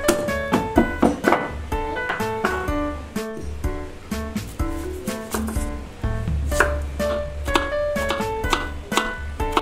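Garlic, onion and green chili being chopped on a board for a creamy sauce. The knife strikes come in quick, close, rhythmic bursts over steady background music.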